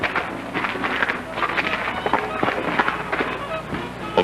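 Quick running footsteps in an old 1942 comedy film, a rapid uneven patter of steps hurrying past over a busy, noisy soundtrack, fairly close and steady throughout.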